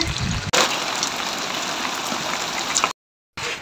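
Steady monsoon rain pours down in a dense, hissing wash, loud and close, broken by a brief dropout before resuming, near a buffalo shed.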